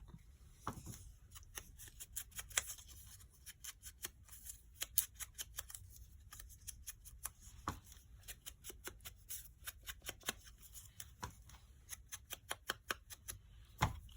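Paper being cut with scissors for a Bees & Daisies handmade journal belly band: a long run of crisp, evenly spaced snips and rustles, close and fairly quiet, with no talking.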